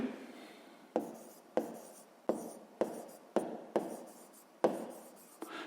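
Pen strokes on notebook paper while working a Grade 6 maths exercise, a run of about nine scratchy writing bursts, each starting with a sharp tap and trailing off, close and fairly quiet with no talking.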